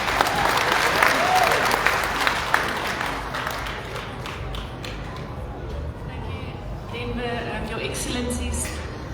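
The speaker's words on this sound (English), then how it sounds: "therefore deserve a better round of applause" Audience applause at a youth campus launch event in Namibia, a burst of crowd clapping with some sharp individual claps that gradually thins out and settles into a lighter patter.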